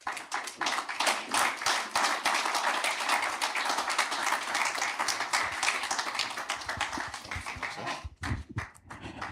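A conference audience gives a dense, sustained round of applause that thins out to a few scattered claps at the end.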